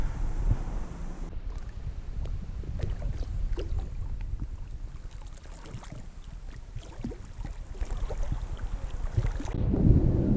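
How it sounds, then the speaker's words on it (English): Wind gusting over a lake during springtime fly fishing, a steady rushing roar that buffets the microphone, with faint scattered knocks throughout. "Wind is picking up a little bit"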